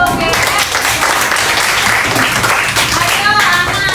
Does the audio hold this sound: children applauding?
yes